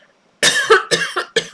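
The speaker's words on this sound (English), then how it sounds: "Sorry, I keep coughing." A run of several sharp, close coughs in quick succession from a person, loud and alone with no talk over them.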